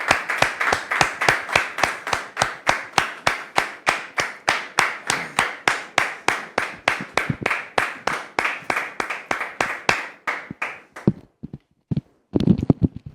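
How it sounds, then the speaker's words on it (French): An audience claps steadily and rhythmically at a live event welcoming a guest, loud and close, the even beats thinning out and ending with a few scattered claps and brief noise. "Public, merci de recevoir Dame Florette sous vos applaudissements"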